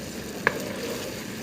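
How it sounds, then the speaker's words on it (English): Schezwan potatoes stirred in a pan over a medium flame, a low steady sizzle with one brief scrape of the spoon, close and alone. "So I'm going to stir this well. I'm going to mix it. On medium flame now."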